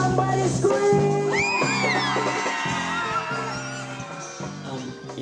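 A town crowd at a fun community event in the Karoo screams and whoops on request, loud rising yells rolling over steady, rhythmic music.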